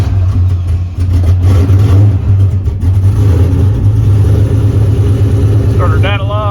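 A turbocharged drag car's engine runs loud and steady with a deep low rumble held on the trans brake, staying close throughout; a brief rising whine appears near the end.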